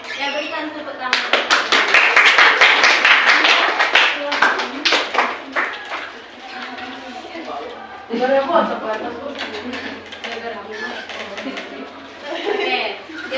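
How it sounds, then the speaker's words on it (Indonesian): A classroom of students claps hands in a burst of quick, fairly close claps that builds and then thins out, followed by scattered later claps while a teacher keeps talking. "berikan tepuk tangan"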